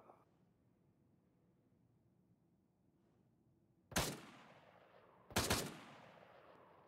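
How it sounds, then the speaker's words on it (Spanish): Two loud, sharp warning gunshots ring out in ArmA 3, spaced about a second and a half apart over a low ambient rumble, each with a brief echoing tail. "La unidad no se detiene ante los disparos de aviso."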